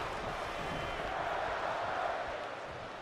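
A large arena crowd in the wrestling game WWE 2K25 during a SmackDown show roars and chants in a steady, dense wash of voices, with no single voice standing out.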